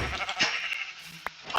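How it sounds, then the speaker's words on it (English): Sheep bleats from Minecraft, with a few short calls over faint game ambience, moderately quiet and close, with no talk. "Sheep."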